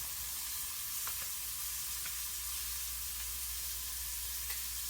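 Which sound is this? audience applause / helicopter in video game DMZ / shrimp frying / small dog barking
shrimp frying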